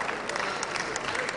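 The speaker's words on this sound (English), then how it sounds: "Please give him a resounding round of applause." A hall audience at a formal speech event bursts into dense, steady applause to welcome a traditional ruler, a brief wash of many hands clapping together with no pauses.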